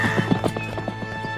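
A cartoon horse whinnies while hooves clip-clop in a quick rhythm, fairly close and lively, with nobody speaking.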